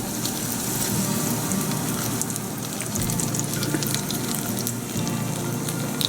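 A Mughlai paratha fries in a pan over medium-high heat, giving a steady, close sizzle with crackling that runs the whole time and has no talk over it.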